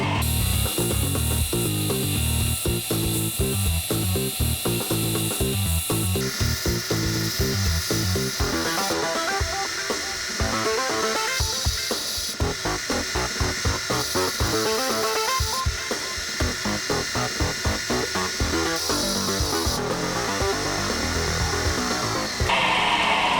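A grinder runs continuously while hollow grinding the bevels of a heat-treated 5160 steel chopper blade, giving a loud, steady abrasive roar with shifting grinding tones as the blade is worked across the belt.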